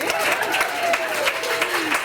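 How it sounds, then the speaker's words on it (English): Audience applause from an easy-going crowd at a book reading, a burst of clapping blended with laughter and cheers over a bit of talk. "Applause for sex."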